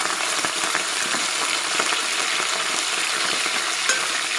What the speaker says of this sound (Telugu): ముందుగా పక్కన పెట్టుకున్న ఈ మటన్ని కొద్ది కొద్దిగా ఫ్రై చేసుకుందాం కొద్ది కొద్దిగా వేసుకొని